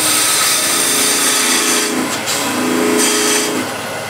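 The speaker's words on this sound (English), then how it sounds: "This thin parting tool, just to get this a little bit further in" A thin parting tool cuts into wood spinning on a lathe while turning a coffee or tea container, a loud, continuous scraping whine with slight shifts in pitch as the tool presses further in.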